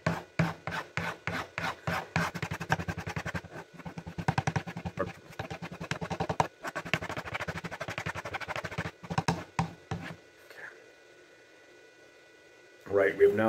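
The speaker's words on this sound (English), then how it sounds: "we're gonna go ahead and hit it now with the clean strop" A Fallkniven F1 knife is drawn over a clean strop in quick rhythmic swipes, a close rubbing whisk repeated in bursts, followed by a quiet pause and a short sound at the end.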